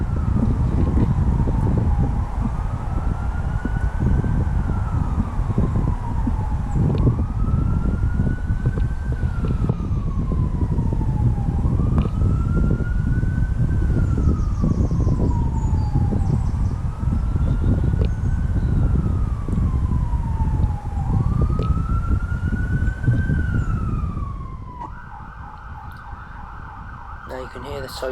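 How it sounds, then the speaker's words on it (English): An emergency vehicle siren wails in a slow rising-and-falling cycle, repeating about five times over steady outdoor rumble at a garden squirrel feeder, then switches abruptly to a faster, higher warble near the end. "Now you can hear the sirens in the background"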